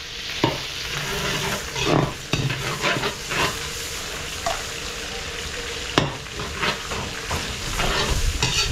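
Garlic and onion sautéing in butter and oil, a loud close sizzle with repeated scraping stirs and clanks of a utensil against the pan, continuous with no talk.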